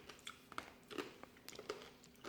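A scorpion being bitten and chewed: a run of sharp, close crunches and crackles at an uneven rhythm, each bite distinct and brittle, with no voices.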